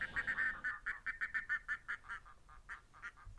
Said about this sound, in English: I think that's a goose flying high above me.